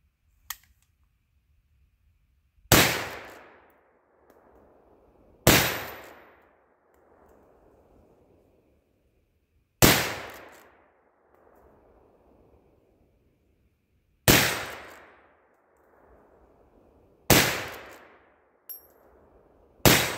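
Six loud, sharp gunshots from a lever-action .44 Magnum rifle loaded with Hornady FTX bullets, each with a long decaying echo, fired at irregular intervals a few seconds apart with quiet gaps between.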